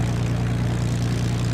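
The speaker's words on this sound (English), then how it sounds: "Release the starter button as soon as the engine starts" A Hawker Hurricane's engine runs just after start-up, a loud, close, steady low throb with regular rapid pulsing from the propeller and no voices.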